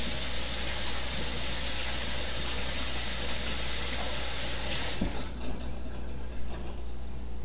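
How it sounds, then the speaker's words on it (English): Hands are washed under a running kitchen tap, a loud steady rush of water that cuts off abruptly about two thirds of the way through, leaving faint handling noises, with no one speaking. "Wash my hands."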